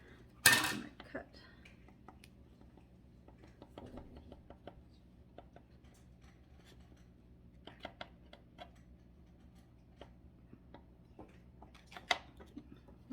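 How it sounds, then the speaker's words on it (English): A small knife taps and scrapes against a baking pan while cutting apart baked heart-shaped Valentine cookies, giving sparse light clicks and knocks, one sharp clatter near the start, close and quiet. "I gotta grab a knife and cut those apart"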